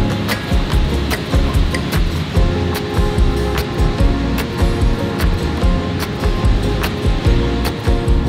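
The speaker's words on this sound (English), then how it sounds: "We're gonna go check out the waves, see if anybody's out there" Surf breaking at Pipeline on Oahu's North Shore roars steadily and loudly, layered with sharp repeated clicks and knocks and a low rumble throughout.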